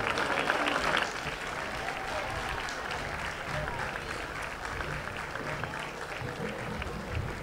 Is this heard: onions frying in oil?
no